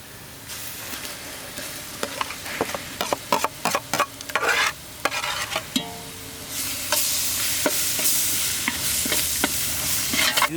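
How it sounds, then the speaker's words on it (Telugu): Ground masala paste frying in a pan for egg khuska rice, with rapid, repeated spoon scrapes over a sizzle that grows louder and steadier toward the end. No one speaks. "ఇది ఒక 3 నిమిషాలు బాగా వేయించుకోవాలి."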